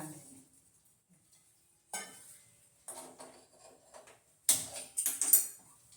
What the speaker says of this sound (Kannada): ಎರಡು ಕಪ್ ಸಾಮೆನಾ ಸ್ವಲ್ಪ ಹುರ್ಕೊಳ್ಳೋಣ